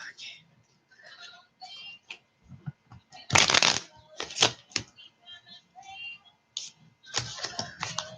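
Tarot cards are shuffled by hand in quick riffling bursts and soft taps, close and crisp, with irregular pauses and a few louder riffles; a person talks faintly between them.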